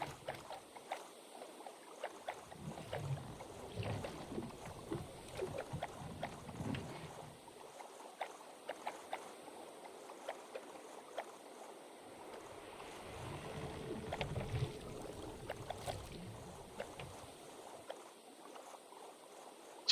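A boat travels across water in Minecraft, with soft rhythmic paddling splashes in repeated bursts over a faint steady wash of water and wind.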